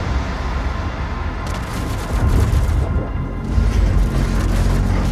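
The BFG 10,000 in DOOM Eternal firing, a deep, loud, rumbling boom layered with sustained roaring noise that swells in two heavy surges over several seconds.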